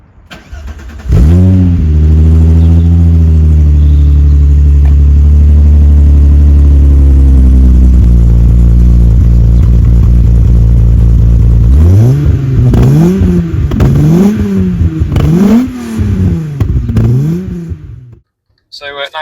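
A 2.9 VR6 swapped into an MK2 Golf GTI starts loud and close and settles into a steady idle. Later it gives a series of rhythmic revs that rise and fall before it cuts off, with occasional voices underneath.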